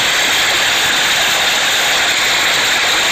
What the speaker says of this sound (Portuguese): Olha o barulho da água, ó.